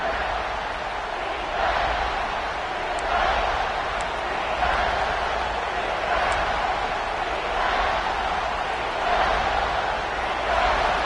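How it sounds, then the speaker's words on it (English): Steady roar of a large stadium crowd in College Football 26 as Kansas State's defense takes the field, loud and continuous with swelling surges throughout, no talk over it. "And here comes the noise. This crowd is trying to inspire this defense"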